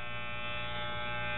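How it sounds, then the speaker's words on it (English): An electric razor buzzes continuously at close range as someone shaves, a steady dense hum with no other sounds. "I really need a shave right now"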